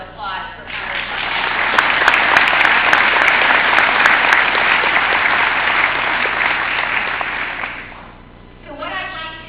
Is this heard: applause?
yes